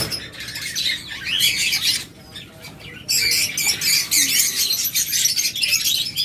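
A flock of pet lovebirds, budgerigars, finches and cockatiels chirps loudly from clay breeding pots, a dense, busy chorus of high tweets that briefly thins before surging back.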